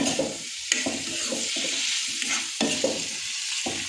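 Silkworms sizzle and crackle steadily in hot oil over a high flame, with scraping stir sounds and a few sharp clicks of a utensil against the pan.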